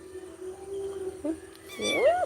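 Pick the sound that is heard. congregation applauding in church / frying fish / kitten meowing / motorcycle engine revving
kitten meowing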